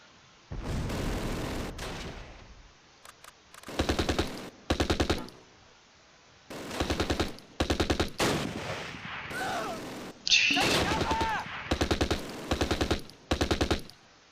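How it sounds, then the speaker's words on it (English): A machine gun in the WWII strategy game Close Combat: Last Stand Arnhem fires repeated rapid bursts, several clipped volleys of a second or so separated by quiet gaps, loud and close with no talking. "There's a machine gun up there."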